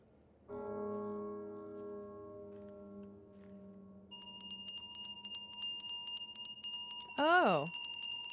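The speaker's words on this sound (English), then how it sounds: "Now we hear the bells." Bells ring out in the video game Unmourned: a sustained low tonal chime first, then brighter, higher repeated bell strikes layered over it, followed by a brief swooping, warbling burst near the end.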